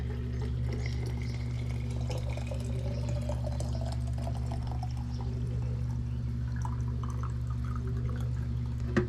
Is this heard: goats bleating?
no